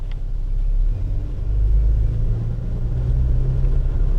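2017 Toyota Tacoma SR5 pickup rolling slowly around a dealership lot, heard from inside as a low, steady engine rumble that swells slightly mid-way, with no talking.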